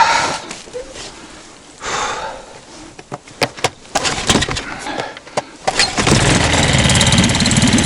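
A small boat motor on a river is yanked a few times with sputtering clicks, then catches and settles into a steady, close idle.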